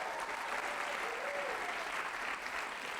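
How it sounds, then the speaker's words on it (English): Audience applause at a live show in New York, a steady dense clapping that holds for the full length at an even level, with no speech over it. "Give yourselves a round of applause for coming out tonight."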